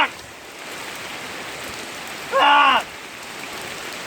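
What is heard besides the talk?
heavy rain falling on a car being washed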